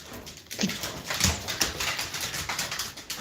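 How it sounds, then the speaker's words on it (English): A dog whimpering and giving short yelps indoors, in uneven bursts close by, with no talking. "He's a great dog, but there's nothing outside, and all he wants to do is bark"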